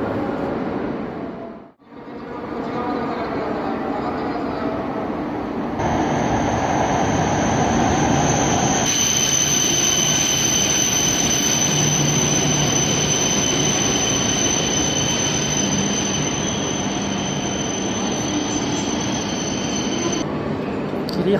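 A train arriving at a station rumbles loudly and steadily close by, with a sustained high-pitched wheel squeal running through most of it after a brief quiet dip.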